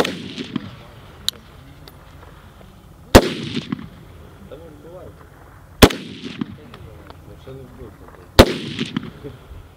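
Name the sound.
gunfire at night shooting practice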